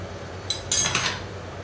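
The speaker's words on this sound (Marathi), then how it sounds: "आता तो आपण आपल्याला छान मिक्स करून घ्यायचा आहे तेलामध्ये" A spoon stirs chopped tomato into oil in a pan, giving a couple of brief metallic clinks and scrapes, quiet and close.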